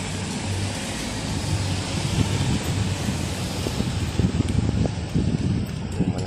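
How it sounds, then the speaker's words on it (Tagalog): Strong wind in Baguio City, Philippines roars and buffets steadily, with gusty low rumbles battering the microphone throughout. "Malakas yung hangin."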